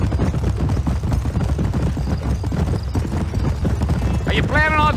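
Horse hooves gallop in the Red Dead Redemption video game, a loud, close, rapid rhythmic clip-clop running continuously, with a brief horse whinny near the end.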